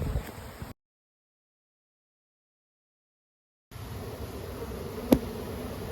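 A steady, dense buzzing of many honey bees during a hive removal, broken by a few seconds of total silence, then resuming with a sharp knock.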